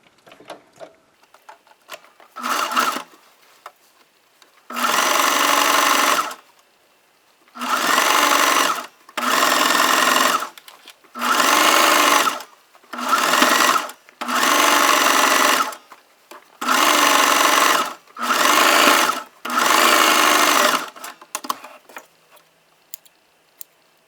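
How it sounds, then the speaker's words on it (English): A sewing machine runs a zigzag stitch along the edge of leggings in roughly nine bursts of rapid, steady whirring separated by short pauses. "let me go ahead and just zigzag this real quick"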